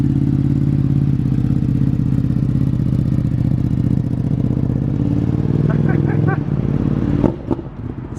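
A Ducati Panigale V2 motorcycle being ridden, its engine giving a steady low rumble that shifts slightly, then fades out. Clattering noises and faint voices follow near the end.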